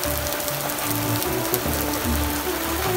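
A downpour near Zira, heard from a roadside hotel, makes a constant, loud wash of rain hitting surfaces, with low droning tones underneath and no speech over the steady hiss.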